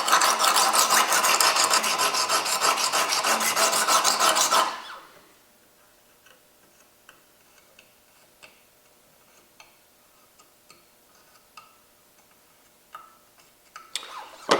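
Steel knife blade drawn along the stone of a guided sharpener gives a loud, steady rasping scrape for about five seconds, then stops, leaving faint scattered ticks and small clicks of handling.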